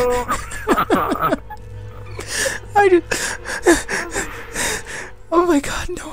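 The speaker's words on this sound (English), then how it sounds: "I can't control my breathing." Panicked heavy breathing and sharp gasps from a frightened player of Aliens: Colonial Marines, several ragged gasps and whimpering breaths close to the microphone, mixed with game sounds and a low hum.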